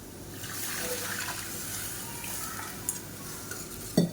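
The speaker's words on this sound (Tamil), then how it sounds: "இப்போ இதில் சும்மா ஒரு ரெண்டு டேபிள் ஸ்பூன் அளவுக்கு புளி தண்ணி சேர்த்துக்கலாம்" Tamarind water poured into a pan of sautéed onions and red chillies gives a soft, steady sizzle and watery hiss, fairly faint, with a small clink near the end.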